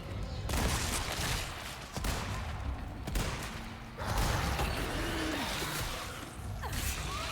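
Gunfire in the video game Resident Evil 4 Separate Ways: several sharp shots and a burst of rapid fire mixed with mechanical clatter, whooshes and thuds across a busy game soundscape.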